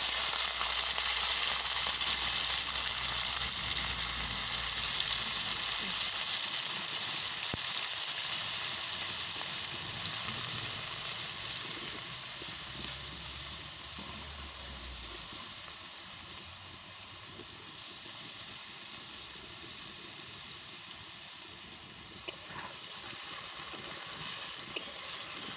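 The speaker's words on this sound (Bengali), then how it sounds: "এটার মধ্যে আমি পনির ভেজে নেব" Paneer frying in a pan, a steady broadband sizzle that holds loud and continuous throughout with faint stirring scrapes and no talking.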